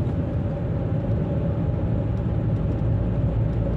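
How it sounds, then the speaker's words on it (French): Cars driving around nearby, a continuous low traffic rumble and engine drone heard steadily throughout without distinct passes. "j'aime pas le son de toutes ces bagnoles qui traînent"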